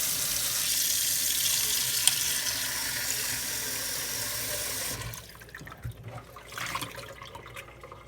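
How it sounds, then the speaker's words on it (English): Cold water pours from a tap onto a Zippo lighter frozen in a block of ice. For about five seconds there is a steady, close hiss and splash, then the flow stops, leaving faint drips and handling knocks. "I am probably going to run some cold water on this just to help get it out"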